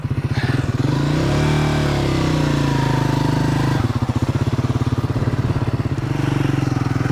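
A 2024 Triumph Scrambler 400X motorcycle pulls away from near the listener, its single-cylinder engine thumping out a steady, loud putter that swells as the throttle opens.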